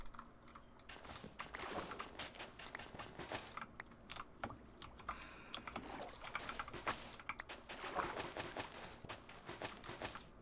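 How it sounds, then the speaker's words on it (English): Fast, continuous clacking of a computer keyboard during a Minecraft Hardcore session, close and fairly quiet, with dense irregular keystrokes throughout. "I forget that you can hear my keyboard just absolutely going off."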